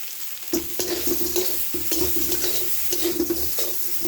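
Potato and cauliflower curry with turmeric, cumin and chili powder frying in a pan, a steady sizzle with repeated rhythmic scraping of a spoon stirring the spices, close and fairly loud, no speech.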